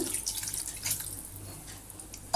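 Water pours and splashes briefly into a pot of simmering ridge gourd curry, a soft, close trickle that fades out over a couple of seconds.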